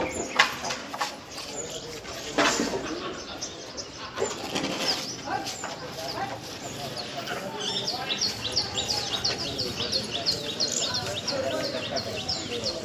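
Outdoors under a cloudy sky, a parrot and other birds chirp, with bright, rapid tweets growing busier toward the end, mixed with intermittent voices and background activity.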